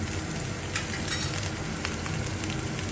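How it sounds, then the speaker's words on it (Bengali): Paneer slices fry in a dry pan with no oil for an aloo paneer dish, giving a steady soft sizzle with scattered crackles and pops, fairly quiet and close, with no talk. "পনিরগুলোকেও স্লাইস ভেজে নেব আমি।"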